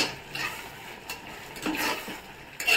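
Tomato rice masala cooks down in oil in a pan, giving a low sizzle under repeated close stirring scrapes and clinks of a utensil against the pan.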